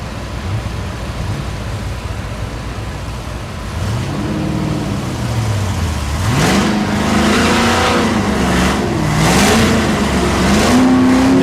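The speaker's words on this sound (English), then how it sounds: "Next pair doing their burnout." Drag racing cars doing a burnout at a dragstrip at Thunder Valley in Noble, Oklahoma, an engine idling then revving in rising and falling surges, loud and growing louder toward the end.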